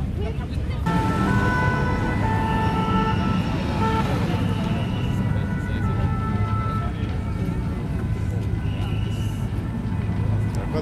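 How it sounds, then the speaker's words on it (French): Steady traffic noise from cars passing on a Paris street near the burning Notre-Dame cathedral, a continuous loud roadway rumble with occasional horn-like tones and crowd murmur throughout. "Encore des voitures qui passent."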